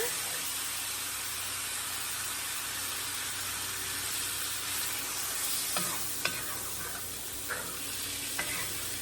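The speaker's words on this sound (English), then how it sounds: "I just want this to slowly thicken and slowly simmer." Garlic scape sauce simmers over low heat with a steady, close hiss and sizzle, broken by a few soft knocks of stirring near the end, with no one talking.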